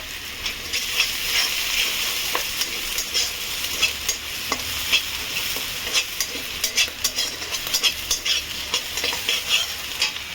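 Chopped ingredients for chilli chicken fried rice frying in a pan with a steady close sizzle, stirred with frequent sharp scrapes and clinks of a utensil against the pan, with no talk.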